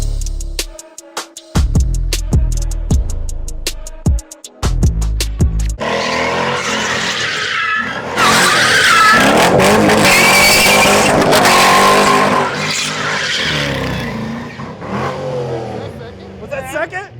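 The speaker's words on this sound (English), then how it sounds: "You gotta rip at least one donut." A worn $5000 Corvette with shot tires revs loudly at the start, then launches into donuts with long, sustained tire squeal and roaring engine, close and dominant, while people's voices are heard under it.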